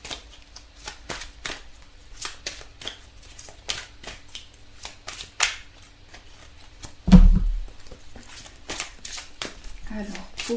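Tarot cards are shuffled before a love reading, producing a run of quick, close papery riffles and flicks in irregular bursts, with one louder thump midway.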